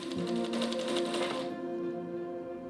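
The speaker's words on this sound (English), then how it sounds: "Continue stitching until you have reached the first corner of your quilt." A sewing machine stitches binding onto a quilt with a fast, even needle rattle that cuts off partway, leaving a quiet hum.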